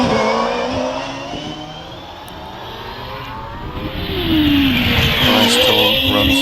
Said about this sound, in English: Firestorm runs the Cosworth XD V8